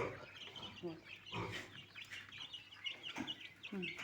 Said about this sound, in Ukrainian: Тут сидить у мене чотири курчатки і одна перепілка